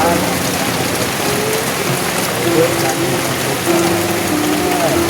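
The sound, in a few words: rain falling during a storm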